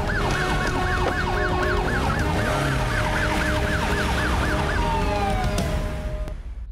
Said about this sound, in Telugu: సార్ కార్లో సైరన్ పెట్టుకుని శక్తిమాన్లా వెళ్ళాడు.